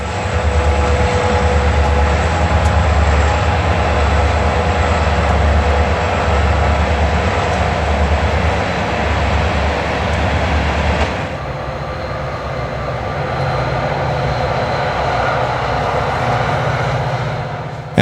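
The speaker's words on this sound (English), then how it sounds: "Behind the engine terminal, an eastbound ballast train gets underway." A Conrail eastbound ballast train gets underway near an engine terminal, its diesel locomotives rumbling loud and close with a deep steady drone that eases slightly partway through and continues.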